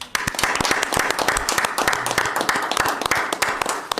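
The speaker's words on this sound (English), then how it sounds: "we're going to give these lovely ladies a round of applause." An audience at a city council meeting applauds steadily for about four seconds. The clapping comes from a moderately sized indoor crowd and is fairly distant.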